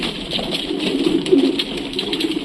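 Racing pigeons in a loft coo softly, a few low rolling calls close by, layered over a steady background hiss and faint rustling.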